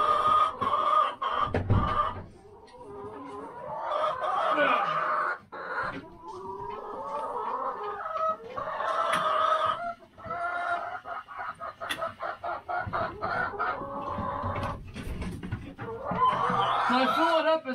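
Chickens in a coop cluck and squawk almost constantly and loudly, with busy overlapping calls close by and a few louder bursts.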